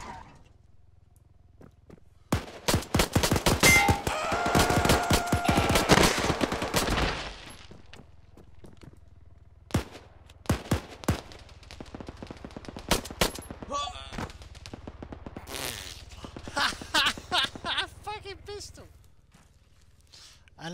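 Pistol gunfire in the ARMA 3 video game, with a loud dense volley of rapid shots early on, then sparser single and clustered shots and some footstep-like clatter, all close and sharp.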